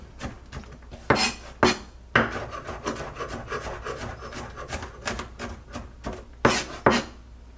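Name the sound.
knife rock-chopping fresh garlic on cutting board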